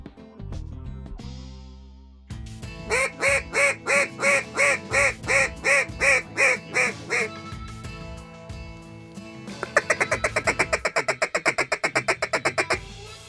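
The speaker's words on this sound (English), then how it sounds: "40 teal coming to decoys" Loud, rhythmic quacking rings out near a spread of decoys where a flock of about forty teal ducks is coming in, first as a steady series of calls, then as a faster, sharper run after a brief pause.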